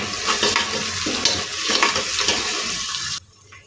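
Onions, added after curry leaves, sizzle in a pan with close stirring scrapes over a constant frying hiss, which drops away abruptly just before the end, no voices.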